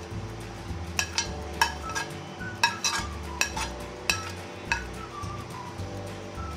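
Semolina batter with chopped green chilli and finely minced onion stirred in a bowl, a spoon clinking against the sides in a loose, uneven rhythm of sharp taps over a soft scraping bed.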